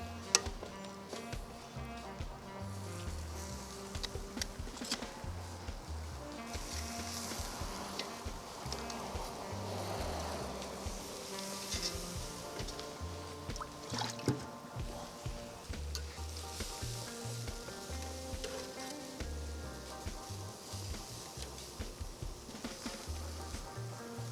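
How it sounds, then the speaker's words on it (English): Beef ribs sizzling on a charcoal grill, a continuous crackling hiss that holds steady for a long stretch at moderate level, with occasional small knocks, no voices. "I'm gonna add the beef ribs onto the grill"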